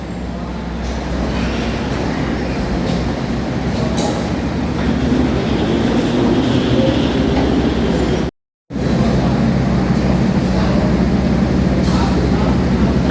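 Tegal Bahari passenger train standing at a station platform, giving a steady, loud, continuous low rumble and hum throughout, with one brief gap near the end.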